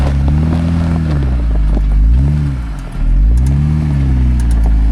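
An off-road vehicle's engine revs loudly and close while snow wheeling near Moab, Utah, its pitch rising and falling in repeated surges with a brief dip before climbing again.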